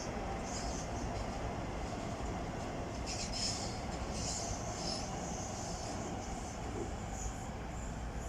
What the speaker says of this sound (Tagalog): Ayan, may train.